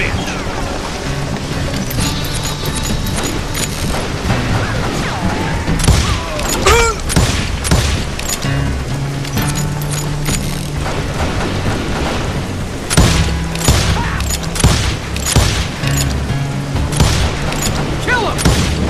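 Gunfire in the Call of Juarez: Gunslinger Western shooter, with repeated sharp booming shots and volleys bursting over a steady low game-music drone, clustering densely in the second half, while shouted voices are heard between the shots.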